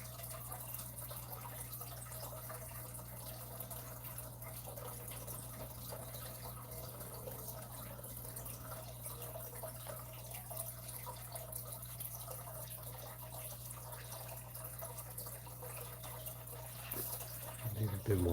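A home fish tank trickles quietly and continuously behind a constant low hum, the water sound staying even and faint throughout before a brief louder knock near the end.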